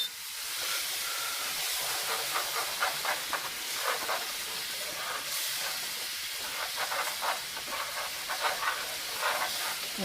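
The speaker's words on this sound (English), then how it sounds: "chicken stock or dry white wine in the pan. We're going to deglaze it." Chicken stock or dry white wine poured into a hot pan to deglaze it, producing a loud, steady hiss of steam and sizzle with faint crackling bursts throughout.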